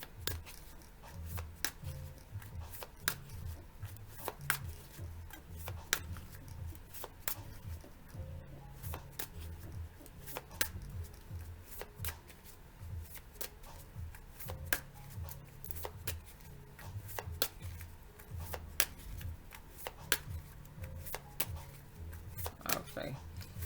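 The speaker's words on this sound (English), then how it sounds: "12 more shuffles later." A deck of cards being shuffled repeatedly, with rapid riffling bursts and soft taps recurring in an irregular rhythm, close and quiet, with someone talking intermittently.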